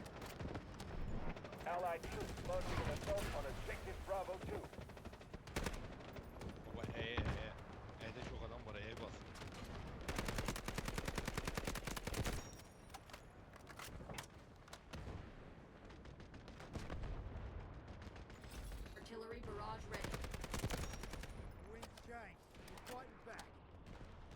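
Repeated gunfire bursts and booming impacts in the shooter Delta Force, mixed with dense battlefield noise and running under excited talk from a player throughout.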